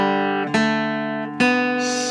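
Two open guitar strings ring out from the intro of a song, each plucked clearly with a sharp attack and sustained decaying tones, close and alone.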